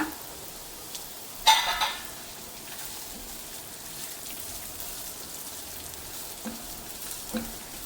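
Amla, Indian gooseberries, frying in oil in a pan: a soft steady sizzle with faint crackles, one louder clatter of a spoon or pan early on and a few light knocks later, no talk.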